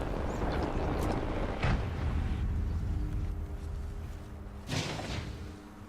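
A heavy door in the video game Apex Legends thuds open amid a low rumbling ambience, a dull impact near the start and another sliding thump just before the end, with no talk.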